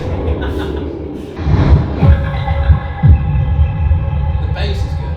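Heavy, deep bass thumping from an office sound system demo with Atmos speakers. Loud throbbing low pulses repeat in an uneven rhythm, and voices murmur faintly underneath.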